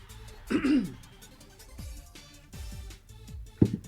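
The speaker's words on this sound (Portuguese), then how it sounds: "Quem fala muito sempre tem pigarro." Someone clears their throat in a few short, raspy bursts with small pauses between, close and fairly quiet in an indoor room.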